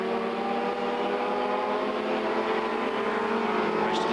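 A 1990 Mazda Xtrac 4X rallycross car racing at Lydden Hill, a loud, sustained engine drone with steady harmonic whine, other cars mixed in, holding at full revs throughout.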